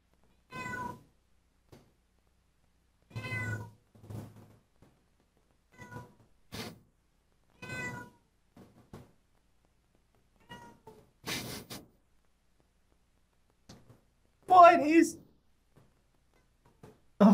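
A cat meows repeatedly in a quiet room, several separate drawn-out calls spaced a few seconds apart, with someone talking between them.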